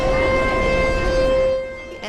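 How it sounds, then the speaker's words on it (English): A statewide tornado drill siren wails as a long, steady tone at an elementary school, holding for about two seconds before fading out. "As the sirens went off just after 10:15 this morning"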